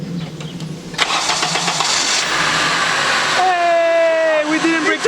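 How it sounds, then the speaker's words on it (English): A 2000s Acura RSX cranks and fires up, the starter whir giving way to a loud rising engine roar that settles toward idle, close by with a person talking over it. "Go start up the car now."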